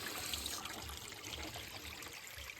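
Water falls from the outlet of a drip fertigation valve on a farm, a faint, steady trickle and splash that runs alone without pause.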